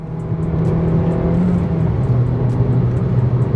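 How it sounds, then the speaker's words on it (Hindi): A Maruti Fronx 1.2L petrol engine revs toward 6000 rpm while accelerating on the road, a loud, continuous drone with steady low hum and no talk over it. "रेविंग टिल 6000 आरपीएम, भाई क्या ही मजा आ रहा है इसे चलाने में"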